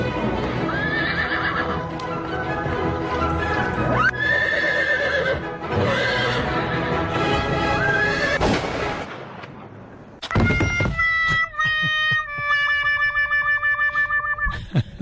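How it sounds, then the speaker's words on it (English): Racehorse whinnying repeatedly while galloping, with loud neighs over rapid hoofbeats, followed by a bright, distorted effects-processed passage of sustained tones. "the whole time the horse was running in that clip, it was whinnying"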